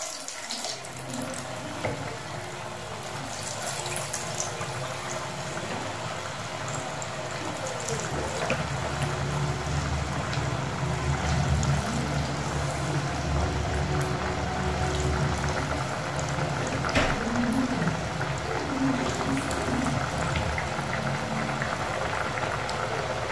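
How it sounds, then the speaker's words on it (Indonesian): Dough balls for a traditional Indonesian village snack frying in hot oil, giving a steady, dense sizzle that runs unbroken and fairly loud throughout, with no talking. "Sekarang kita akan goreng."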